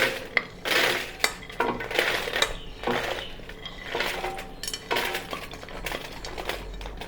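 Masala being added and spread over peanuts on a foil tray, producing irregular clinks, scrapes and crinkling taps in bursts, fairly close and alone without talk.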